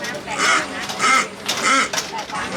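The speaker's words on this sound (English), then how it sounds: "It's just a little squeaky toy that he's got." A little squeaky toy honks like a duck at a huge outdoor market, three or four loud, nasal quacking squeaks in an uneven rhythm over street bustle.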